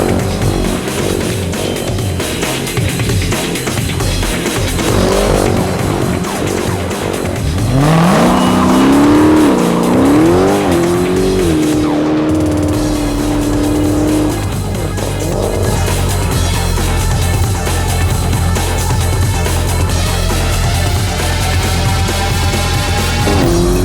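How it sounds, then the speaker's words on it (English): Dodge Challenger SRT Hellcat and Chevrolet Camaro, both 2015, doing burnouts: loud continuous engine roar with rising and falling revs and tire squeal, sustained throughout with no talk. "As for the burnout contest,"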